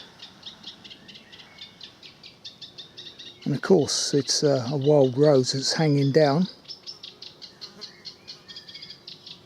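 A warbler sings a fast, scratchy, continuous song nearby throughout, with someone talking over the middle stretch.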